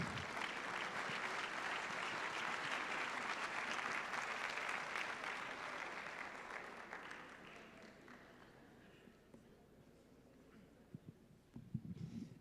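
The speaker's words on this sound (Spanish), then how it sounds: "Creo que merece un aplauso más fuerte" Loud, sustained audience applause at a conference presentation on human capital and manufacturing 4.0, dense clapping that gradually fades over several seconds into a few scattered claps and quiet room noise.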